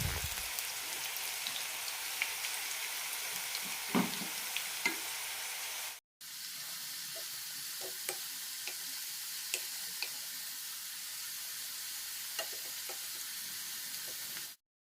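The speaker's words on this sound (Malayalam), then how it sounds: "മീഡിയം ഫ്ലെയിമിലിട്ട് വറുത്തെടുക്കാം. അത്യാവശ്യം ക്രിസ്പിയായി കിട്ടണം." Bitter gourd slices frying in oil over a medium flame, a steady close sizzle with scattered pops and crackles, briefly cut off midway before resuming, no talking.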